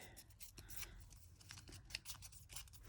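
Scissors trim a small edge of paper for a handmade craft piece. There is a quiet, close series of quick snips and rustles, heard alone.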